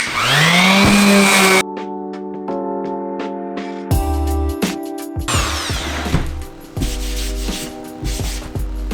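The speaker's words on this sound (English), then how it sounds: "I probably done sanded some of this out, so I might have to go over it a second time" A power sander works over a handmade wooden woodworking project, whining loudly at first, then cutting in and out in bursts with rising and falling pitch and some knocking handling noise between runs.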